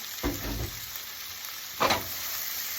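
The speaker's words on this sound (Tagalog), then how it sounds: "Lagay natin yung tomato" Tomatoes dropped into a pan of sautéed garlic and onion, a steady sizzle with two louder bursts of frying and stirring, no voices.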